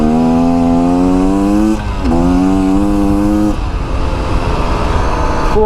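A 2024 Beta Xtrainer dirt bike engine revving up through the gears, loud and close, its pitch climbing steadily then dropping at each shift before rising again.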